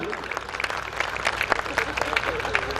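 Scattered hand claps from the audience at a 2012 Hindi poets' gathering in Badaun. The claps come as sparse, uneven bursts beneath a man's ongoing speech, fairly quiet and somewhat distant.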